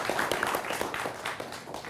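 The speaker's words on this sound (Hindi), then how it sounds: "तालियों के साथ इन सबका अभिनंदन करिए।" Studio audience applause at a Hindi television debate, a steady patter of clapping that holds at an even level throughout the short stretch, with no talk over it.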